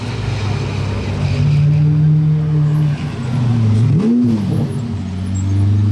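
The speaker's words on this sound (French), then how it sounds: "Ah, Murcielago, ouais, il a fait un bruit en arrivant." A Lamborghini Murcielago's powerful engine rumbles loudly and steadily nearby in Monaco, its pitch dipping and swooping up in a brief rev as it pulls in.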